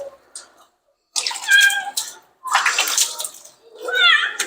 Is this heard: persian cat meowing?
yes